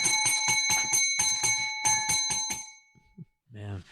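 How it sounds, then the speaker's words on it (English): Bells ring in a bright, rapid series of repeated strikes, close and clear for a few seconds, then fade into brief sounds and a voice at the end. "Christmas bells."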